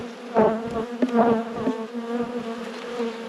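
Honey bees buzz steadily and close up as a beehive is opened for inspection, a dense droning hum with a few louder swells as individual bees pass near.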